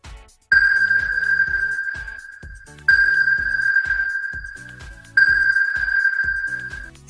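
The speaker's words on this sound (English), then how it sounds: "Submarine." Three long electronic sonar pings, each a steady bright tone with a high overtone, sounding over a rhythmic low pulsing beat in the background.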